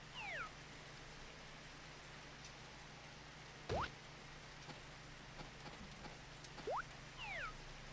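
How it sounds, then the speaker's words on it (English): Rain falls in a farming video game as a steady, soft, even hiss. Faint meow-like chirps and a brief thump come through on top at a few points. "I'm farming in the rain."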